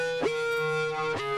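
A sustained synth lead stacked over two other leads holds a steady tone in the second drop of a K-pop beat, with brief percussive hits at regular intervals; moderately quiet and without voices.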